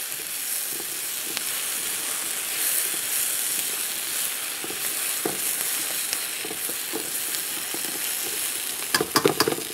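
Squash, kabocha-style potimarron, and vegetables stir-frying in a wok for Thai shrimp, a loud steady sizzle with stirring scrapes, ending in a few sharp clatters of the utensil, without speech.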